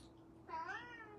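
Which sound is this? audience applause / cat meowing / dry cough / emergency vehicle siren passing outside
cat meowing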